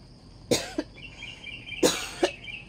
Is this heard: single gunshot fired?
no